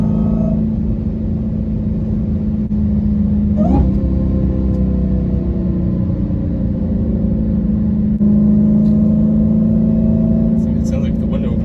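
A Dodge Charger Hellcat with a Borla ATAK exhaust idles and revs with a deep, loud rumble and a steady supercharger whine rising and falling through it, while a person talks over the engine.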